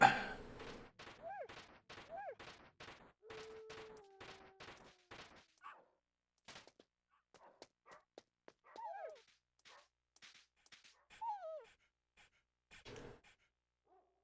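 A dog in the video game Metal Gear Solid panting and whimpering, a run of quick breathy pants followed by high whines and yips, faint and close.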